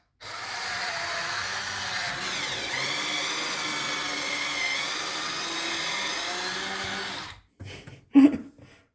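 A Silvercrest electric corkscrew whirs steadily for about seven seconds as it bores into a wine bottle's cork, a smooth motor hum that cuts off abruptly, followed by a few brief clunks and a short squeak.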